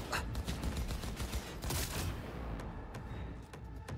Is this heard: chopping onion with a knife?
no